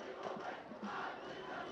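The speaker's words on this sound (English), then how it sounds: "Now you see the junior crowd is getting hyped up now. They're cheering their team on." Junior class crowd cheering and yelling at a Lake Orion powderpuff football game, a steady, dense wall of voices with rising shouts throughout.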